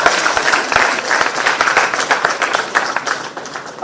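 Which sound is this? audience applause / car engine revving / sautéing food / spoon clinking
audience applause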